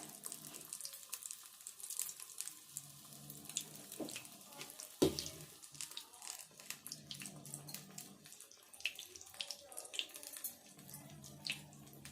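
Pea vadas slipped one at a time into hot oil, giving a steady crackling sizzle with scattered bright pops and one sharp splash partway through, close and moderately loud.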